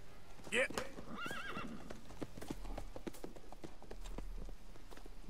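A horse in the Red Dead Redemption 2 video game gives a sharp whinny near the start, then its hooves clip-clop in an irregular walking rhythm under game noise and faint voices.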